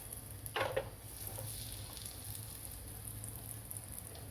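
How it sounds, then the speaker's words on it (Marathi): Eggplant slices fry in hot oil over a medium flame, giving a faint, even sizzling hiss with a short crackling burst near the start. "आता आपलं तेल तापलेलं आहे आणि आता मी वांगीही टाकून घेते व्यवस्थित"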